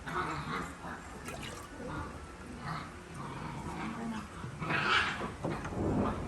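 Puppies whimper and yip faintly in short scattered bursts, with low background noise throughout.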